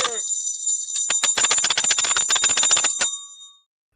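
A bright metallic bell rings in a rapid, continuous trill for a few seconds, then stops and its tone fades out.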